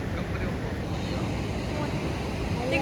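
Sea waves breaking at Ganpatipule beach, a steady, close, broad wash of surf noise mixed with wind buffeting the microphone throughout.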